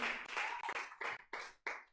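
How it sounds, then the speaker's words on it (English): A comedy show audience claps in a few rhythmic bursts, about six clustered rounds of applause in quick succession, close and moderately loud. "Clap it up."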